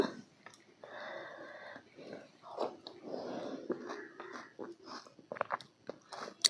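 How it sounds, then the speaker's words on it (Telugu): Spoonfuls of ragi porridge mixed with curd, onion, coriander and green chilli being chewed up close, soft wet bites and chewing noises coming in bursts, with a voice murmuring in places. "ఇప్పుడు ఇదిగోండి ఇదైతే మనం తిని టేస్ట్ చేద్దాము"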